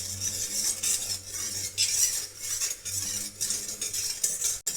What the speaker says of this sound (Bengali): সোডাটা জলের সঙ্গে ভালো করে মিশিয়ে নেব